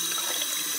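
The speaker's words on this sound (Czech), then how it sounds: "nebojím se na to pustit vodu, teče mi na to" Tap water runs steadily onto a TomTom Runner 3 sports watch held under a faucet, a close, continuous hiss and splash with no pauses.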